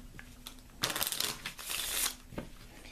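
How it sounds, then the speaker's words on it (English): A deck of Lenormand cards is shuffled in a few quick, papery bursts of riffling and flicking, close by, with no talking. "I'm going to shuffle one more time."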